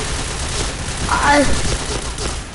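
A KRISS submachine gun fires in the video game Point Blank, a quick burst of rapid shots dense enough to blur together, with a player talking over the gunfire.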